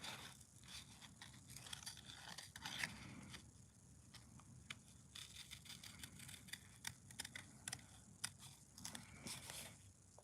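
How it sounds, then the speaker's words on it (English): Scissors snipping black card, a run of small crisp cuts and crunchy clips spread through the stretch, close and fairly quiet over a low background hum. "I'm just going to snip that off."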